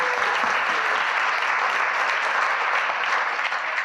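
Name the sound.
applause for a conference speaker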